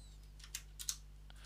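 A few faint, sparse keystrokes click on a KB Paradise V60 Mini keyboard over a steady low hum, with no voices.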